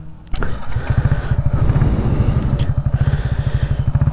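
A modified Yamaha XSR 155 motorcycle, part modified and part stock, cranks with a short burst and catches, then settles into a loud, close, steady pulsing idle.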